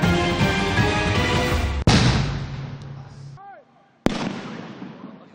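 An illegal firecracker loaded with 120 grams of powder blows apart in a Quezon City police demonstration, giving a loud sharp crack and a long roaring burst that decays into a crackle, followed by a second sharp blast.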